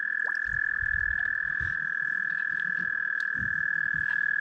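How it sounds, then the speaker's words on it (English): Toads croaking in shallow water during mating, a dense chorus of low repeated croaks pulsing in bursts over a steady high insect-like drone at night in the wilderness. "It's toads. You can see like 30 toads right there."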